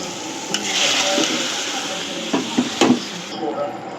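Egg curry sautéed and stirred in a wok (kadai), with a steady sizzle and a few sharp spatula scrapes and knocks against the pan, fairly close.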